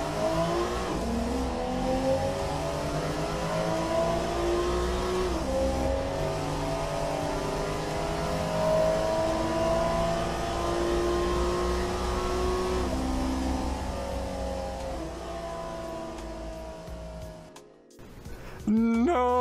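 A 1995 European roadster engine revs hard throughout a video game drag race, a loud sustained drone climbing through the gears with shift dips, then cutting off abruptly near the end.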